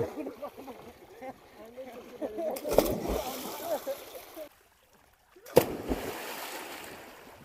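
A man jumps into dam water at Bangriposi in Odisha, and two sharp splashes land seconds apart over lapping water, while excited voices cheer around them.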